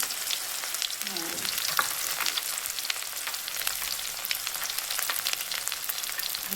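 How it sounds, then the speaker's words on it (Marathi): Onions frying in a pan for a spicy rajma curry, a dense continuous crackling sizzle with scattered pops and soft stirring, heard alone at close range. "कांदा टाकून नंतर मस्तपैकी फ्राय होऊन आता कांदा चांगला होऊन देते"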